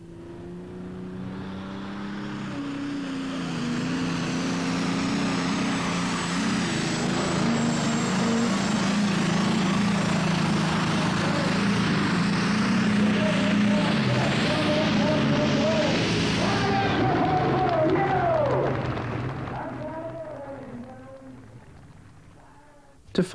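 A superstock pulling tractor's quad-turbo 6-cylinder diesel, revving past 5,500 RPM, roars loud and sustained for about eighteen seconds with a rising whine, then fades away, with faint voices near the end.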